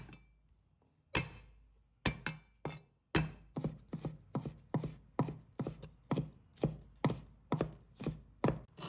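A knife mincing garlic on a cutting board for a home-style potato and pumpkin dish: a steady series of crisp, close chops, speeding into an even rhythm after a few scattered strokes, no voices.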